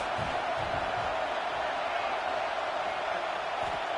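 Stadium crowd noise in a college football video game against Louisville, a dense, steady roar that holds at the same level throughout, with commentary voices faint beneath it.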